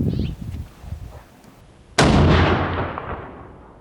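A single sharp rifle shot from a Model 70 Winchester firing hand loads cracks loudly and close, its report decaying over about two seconds after a quiet lead-in.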